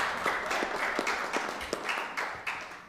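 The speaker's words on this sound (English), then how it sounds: "That's a reason to give us a round of applause." Audience at a City of Waukegan community committee meeting giving a round of applause, a moderate patter of many hands clapping at once, somewhat distant and steady, with no talking.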